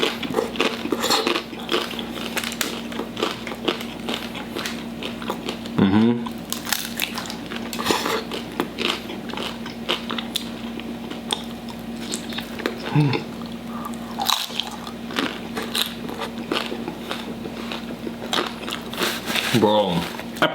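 Jack in the Box tacos being bitten and chewed close to the mic, with repeated crunchy bites and wet chewing running continuously alongside occasional wrapper crinkles and someone talking.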